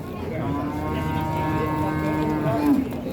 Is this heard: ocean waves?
no